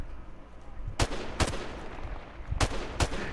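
Rifle fire in Call of Duty: Modern Warfare Remastered, four sharp loud cracks in two spaced pairs over a low background rumble, no talk.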